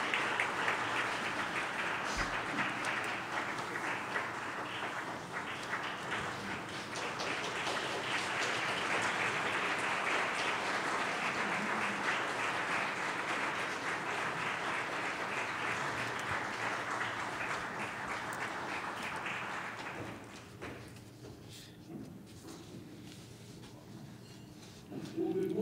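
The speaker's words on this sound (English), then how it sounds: "Please do welcome him with applause." Sustained audience applause in a Tokyo lecture hall as former Australian Prime Minister Scott Morrison is welcomed, swelling slightly and holding steady for about twenty seconds before fading into quieter room sounds.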